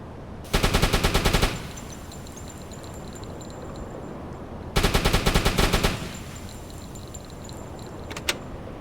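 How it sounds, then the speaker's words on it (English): A submarine deck gun on a Type IID U-boat in the UBOAT video game fires warning shots in two loud rapid bursts, each about a second long, separated by steady sea and engine ambience. "we'll try to fire some warning shots"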